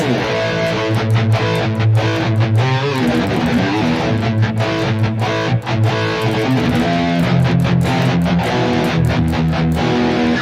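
Loud, distorted electric guitar with humbucker pickups playing a busy riff with sharp picked attacks and thick sustained chords, no talking over it.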